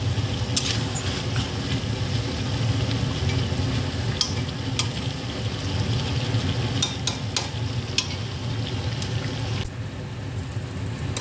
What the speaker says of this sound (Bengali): চিকেনটা ভালো করে ভাজা হয়ে যাবে, পুরো সিদ্ধ ভাজা দুটোই